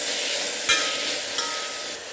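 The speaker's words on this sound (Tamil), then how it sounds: "இந்த திருப்பின பச்சை மிளகா விழுத வதங்கின வெங்காயத்தோடு சேர்த்து ஒரு தடவை பரட்டி விட்டுக்கலாம்." Green chillies are stirred with sautéed onions in a hot pan, a steady close sizzle broken by two quick spoon scrapes.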